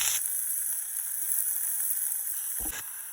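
Siru keerai spinach with onion and green chilli sautés in a hot pan, giving a steady, close sizzle. Two brief stirring knocks interrupt the frying.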